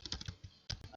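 Fast, close keystrokes tap on a computer keyboard in a quiet room, coming in a rapid cluster, then a short pause, then a few more taps.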